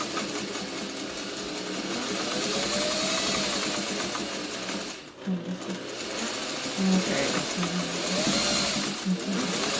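Home sewing machine running steadily through free-motion machine quilting, a close, continuous whirring hum with a short pause partway through before stitching resumes.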